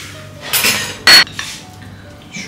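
A spoon stirs tahini thinned with water in a bowl, making a few soft scrapes and one sharp metallic clink against the bowl, close and distinct with no talking.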